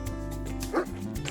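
A dog on a mountain trail in Millcreek canyon gives one brief yip or bark, faint and partly masked by steady background noise and music.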